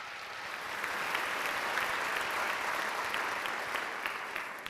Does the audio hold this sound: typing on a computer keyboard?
no